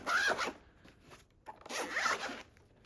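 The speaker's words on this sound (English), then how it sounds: "let's do the ultimate test and see how smooth the zippers are" Zippers on a SyVend carrying case for the ROG Xbox Ally handheld being pulled open, two smooth close-up zips separated by a short pause, with no talking.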